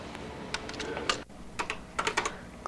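Keys clacking on a Color Computer keyboard as a short program is entered: irregular clusters of crisp, close taps with short pauses between them, heard quietly and alone.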